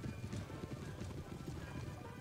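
Cavalry, horse guard and dragoons, move across a Napoleon Total War battlefield, their hooves a dense, rapid clip-clop of many horses together, steady and moderately distant, with an occasional faint whinny.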